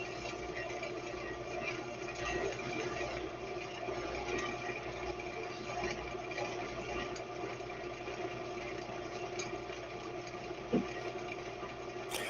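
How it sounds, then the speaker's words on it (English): A wood lathe running steadily, a low continuous motor hum with a faint even drone throughout, one brief knock near the end. "I don't know if you heard that over the sound of my lathe or not"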